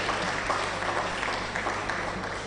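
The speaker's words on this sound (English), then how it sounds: "Please a round of applause for him." Steady applause from a crowd at a research and innovation day event fills the space, a dense, continuous wash of clapping with no voices standing out.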